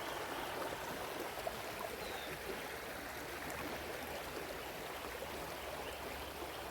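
A small forest stream flows in a continuous, soft rush, heard faintly and evenly from a short distance with no voices over it.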